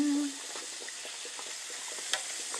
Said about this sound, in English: And I'm cooking some pork chops right now.